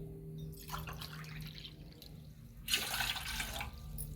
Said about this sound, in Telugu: 2 గ్లాసులు వాటర్ పోసుకొని